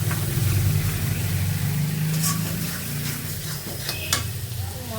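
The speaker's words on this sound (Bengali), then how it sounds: "মশলাটা কষিয়ে নেব ভালো করে" A spice paste of ginger-garlic paste, chili and turmeric fries in oil with a continuous close sizzle, and occasional stirring clinks come through over a low steady rumble.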